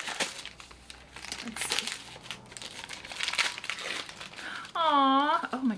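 Floral-patterned gift wrapping paper crinkles and tears as a present is unwrapped up close, in bursts throughout, with a person speaking briefly near the end.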